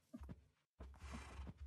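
A horse in the video game Minecraft gives a short breathy whinny and snort, close and clear, broken by a brief silence before a second longer neigh.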